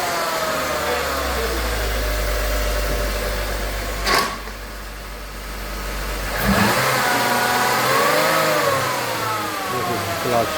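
A VW VR6 engine revs hard in a close, loud, sustained drone, drops briefly, then rises again into a second run of revving, just after clutch replacement work. A person speaks under the engine noise.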